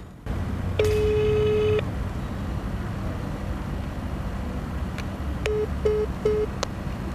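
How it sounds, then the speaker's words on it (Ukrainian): Telephone dialing while calling a press office: a long steady tone, then a quiet stretch, then a few clicks and a series of short beeps over low background hum. "Багаторазові намагання дозвонитися до прес-центру відомства так і залишилися безрезультатними."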